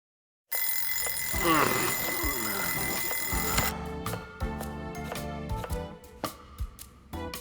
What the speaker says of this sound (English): I even moved the alarm and everything. Turning it off in your sleep is a talent.